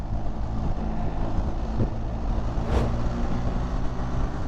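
A 2025 BMW R 1300 GS Adventure motorcycle held in second gear on the road, a steady engine drone mixed with constant wind rush, close and even, with no talking.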